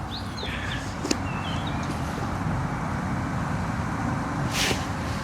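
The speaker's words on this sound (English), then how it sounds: "It's windy." Wind blows across an outdoor microphone in a steady low rumble, with faint birdsong and a brief tap rising above it.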